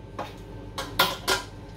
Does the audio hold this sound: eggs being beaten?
yes